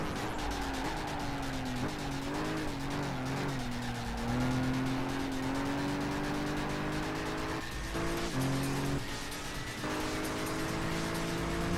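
Race car in Gran Turismo 5 roaring steadily at high revs, with gear shifts, engine pitch rising and falling, and tires squealing through corners, loud and continuous with no talking.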